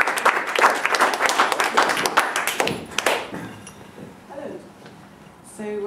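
A small audience at a poetry reading claps in a brief burst of sharp, distinct hand claps that thins out and stops after about three seconds, followed by quiet room sounds and light movement.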